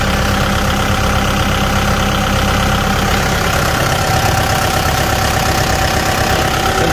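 A Kubota M tractor engine idles steadily at close range, a loud, even diesel rumble with a constant throb and no change in speed, heard alone without talk.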